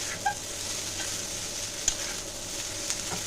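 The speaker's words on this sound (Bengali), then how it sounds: "তো আমি যেভাবে চাউটা নাড়াচ্ছি, তোমরাও এইভাবে চাউটাকে ঘরে তৈরি করবে" Egg chow mein tossed and stirred in a hot pan, a steady close sizzle with a few light scraping clicks of the utensil.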